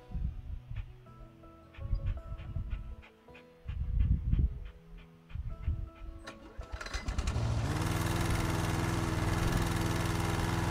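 Lawn mower in the House Flipper video game starts up after clicks and thumps, then settles into a steady, loud, droning engine hum.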